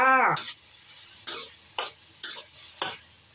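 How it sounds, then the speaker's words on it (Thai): A spatula scrapes and tosses squid and sliced long beans in a sizzling pan, four or five rhythmic stirring strokes over a steady hiss, close and clear with no talking. "ผัดให้สุกเลยจ้า"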